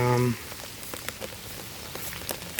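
Rain pattering on a plastic tub set over a camera outdoors in a vegetable garden, a steady close drumming with scattered sharper drops, following a brief voice at the start.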